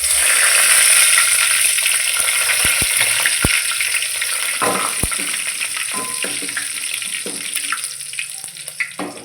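Green chilies and bay leaves sizzle loudly in hot oil, a steady close frying hiss that slowly eases, with a few sharp clinks of a utensil against the pan.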